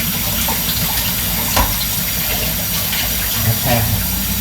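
Kitchen tap water runs steadily into a sink while food is rinsed during lasagna soup preparation, a constant close splashing stream with a few brief clatters.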